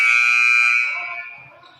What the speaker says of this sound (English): that buzzer that you heard was the shot clock buzzer